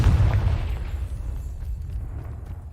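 A Confringo blasting spell detonates in Hogwarts Legacy, a loud, deep boom that hits at once and then rolls off into a rumbling decay for a couple of seconds, with no talk over it.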